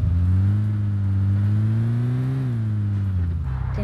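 A car engine in the video game PUBG Mobile drones loud and close with a strong, steady tone that climbs slightly as it revs, then eases back down.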